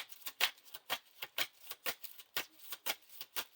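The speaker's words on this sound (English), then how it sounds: "Shuffle our discard pile back into our deck." Cards from a discard pile shuffled back into the deck during a Lord of the Rings living card game session, heard as a rapid run of crisp, close riffling ticks with no speech.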